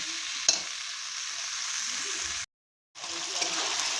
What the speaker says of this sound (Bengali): এখন আলু ফুলকপি দিয়ে ভালো করে নেড়ে নিয়েছি